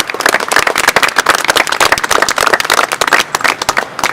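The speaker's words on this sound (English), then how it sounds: "So a round of applause for Linda" Outdoor applause at a park entrance opening ceremony: a small crowd claps briskly, sharp individual hand claps crackling densely and evenly for several seconds with no talk over them.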